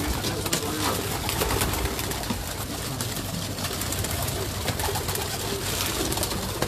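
Many pigeons on a rooftop loft make dense, continuous cooing and rustling, with no clear voices and a busy, steady texture throughout.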